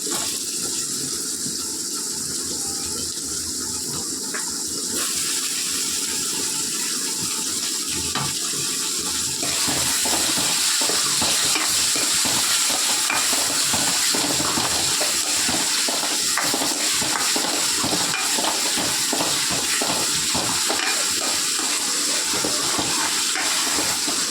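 Tomatoes frying in oil in a pan, a loud, dense continuous sizzle that grows fuller and more crackly about ten seconds in and keeps going steadily, close up, with no voices.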